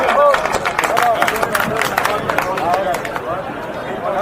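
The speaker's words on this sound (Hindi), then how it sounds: "सभी तालियां बजाएं," Crowd at a Lok Sabha election political rally in Ramsin, Jalore, applauding loudly and steadily throughout, a dense wash of many hands clapping with crowd chatter and a voice mixed in.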